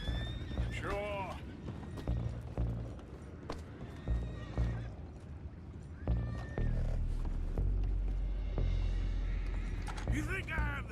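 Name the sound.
horses in video game Red Dead Redemption 2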